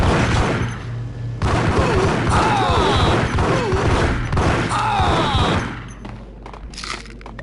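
Gunfire during a shootout in the video game Max Payne, dense loud bursts and booms over several seconds before fading, mixed with game sound effects.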